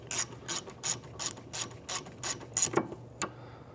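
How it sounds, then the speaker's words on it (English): A ratchet tightens a brake line fitting on a new rear caliper of a 2011-2017 Honda Odyssey. It clicks in a series of about eight crisp, close bursts with short pauses between them, then one last click. No one speaks. "And now we can tighten up our brake line."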